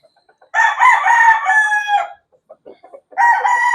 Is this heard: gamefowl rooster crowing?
yes